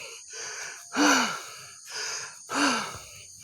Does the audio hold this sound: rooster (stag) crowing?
no